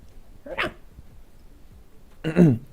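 Dog barking in the Minecraft video game: two short, separate barks about two seconds apart, clear over quiet background.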